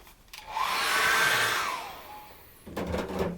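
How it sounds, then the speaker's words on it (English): Hair dryer blowing on a wet acrylic landscape painting, swelling up loud for about two seconds and fading, then starting again briefly, alone without speech. "I'm going to get my magic hairdryer and dry that once more"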